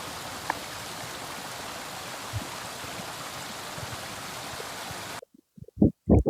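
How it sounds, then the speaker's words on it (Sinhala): Water jetting under high pressure from a vehicle at Bowatenna tank makes a steady broadband hiss and rush that runs alone for about five seconds, then cuts off abruptly into a few short, louder knocks and bursts. "ඒක නම් මාර ප්‍රෙෂර් එකකින් තමයි වතුර විදින්නේ."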